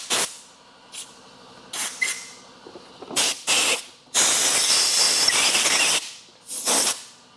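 Short bursts of compressed air blown onto a Skidoo snowmobile clutch shaft, starting with several brief hissing puffs, then one long sustained blast of around two seconds, then more quick bursts. Loud, close and steady, with no talking.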